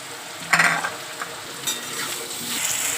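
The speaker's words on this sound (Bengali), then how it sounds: "দিয়ে দিচ্ছি পেঁয়াজ কুচিও, সব একসঙ্গেই ভেজে নিচ্ছি" Chopped onion frying together with turmeric, salt, ginger paste, garlic paste and tomato in a pan for a khichuri, a steady close sizzle with a few louder bursts of stirring and clinks.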